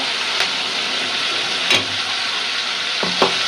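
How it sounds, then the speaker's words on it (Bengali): Prawns frying in a pan for a Bengali curry make a steady broadband sizzle throughout, broken by a few brief clinks of stirring, with no talk. "তারপর চিংড়ি মাছটা খুব সুন্দর করে দেন কত সুন্দর করে ভাজা ভাজা করছি"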